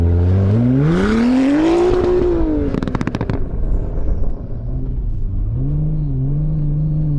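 A Lamborghini at a car show revs hard and accelerates away, its engine pitch climbing and then falling. A burst of crackling pops follows, and a lower engine drone fades as it moves off.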